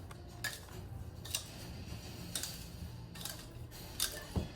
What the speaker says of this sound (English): you're gonna push the sides down with your spatula